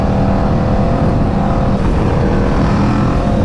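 Aprilia RSV4 motorcycle with a 520 chain conversion riding on canyon roads: a steady, loud engine drone with wind roar holds at constant intensity throughout, close and unbroken, with no speech.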